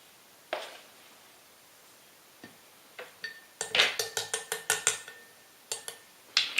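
A lid being fitted back onto a sugar container in a home kitchen: a quick run of sharp, close plastic-like clicks and clatters, with a few isolated taps before and after, and no talk.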